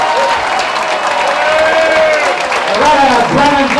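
A crowd applauds a parade grand marshal at her installation, with loud sustained clapping and some cheering close by, while a voice talks over it.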